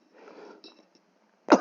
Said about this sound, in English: I'm like coughing when I'm teaching online.